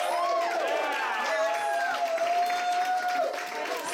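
Crowd at a book launch hosted by Quattro Books at the Garrison, with applause and cheering filling a packed room throughout, steady and dense with voices mixed in.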